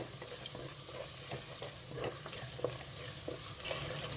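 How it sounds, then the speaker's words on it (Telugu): Ginger garlic paste frying in a pan for a fish curry, a steady low sizzle with faint stirring clicks and scrapes, continuous and fairly quiet. "ఇప్పుడు అల్లం వెల్లుల్లి పేస్ట్ వేస్తున్నానండి ఒక స్పూన్ తీసుకున్నాను చెప్పా కదా అది కూడా కొంచెం పచ్చివాసన పోవాలి"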